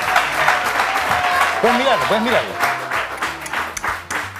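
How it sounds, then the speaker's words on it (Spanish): Audience applause at a live magic trick performance, a broad wash of clapping running throughout with someone talking over it and brief vocal exclamations. "¡Aplaudan esto!"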